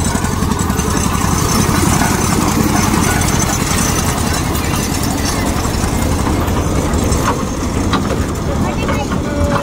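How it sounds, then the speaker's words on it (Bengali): A toy train runs at the Howrah Rail Museum, its motor giving a steady, loud, droning chug that stays constant throughout with a busy crowd-like wash behind it. "ছুটে আসছে টয় ট্রেন, এই তো আসছে।"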